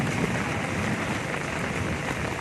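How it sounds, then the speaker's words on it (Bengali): Heavy downpour during a kalboishakhi storm, a dense, steady hiss of rain pouring on surfaces, close and unbroken, with no voices. "প্রচুর বৃষ্টি হয়েছে, এখনও বৃষ্টি হচ্ছে।"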